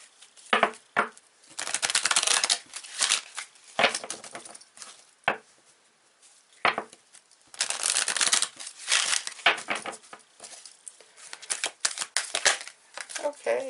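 A Four Agreements tarot deck is shuffled up close in repeated riffling, rustling bursts separated by short pauses, with a voice speaking at times between them.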